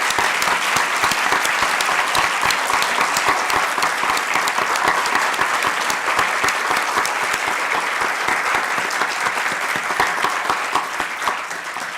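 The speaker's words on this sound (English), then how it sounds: "Give them a thunderous round of applause," Loud, dense audience applause after a Carnatic violin arangetram performance, a thick continuous roar of clapping sustained for many seconds before easing off near the end.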